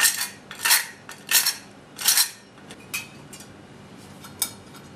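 Sugar, ground cinnamon, allspice and nutmeg for an apple pie filling are mixed in a bowl, heard as a series of close, bright scraping and clinking strokes of a utensil in an uneven rhythm.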